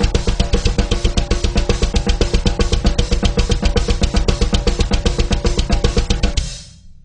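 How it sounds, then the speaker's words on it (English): A fast drum groove with a steady kick driving dense, evenly spaced hits for about six and a half seconds, loud and close, then cut off with a brief ring-out. "So with the kicks and a little bit faster, it sounds like this."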